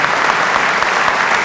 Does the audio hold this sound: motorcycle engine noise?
no